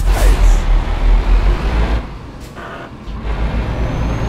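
A Vauxhall Vectra engine drones loudly on the road, then drops away briefly around a gear change before the engine note builds again, close and without talk.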